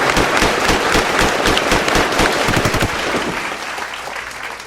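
A burst of close, loud clapping in a podcast studio, rapid irregular claps from a few people that thin out and fade toward the end.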